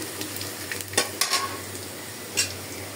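Onion, garlic and green chilies sizzle in a pan as the base for cooking radish greens, with a steady frying hiss and a few brief scraping stirs of a utensil against the pan, close and fairly quiet.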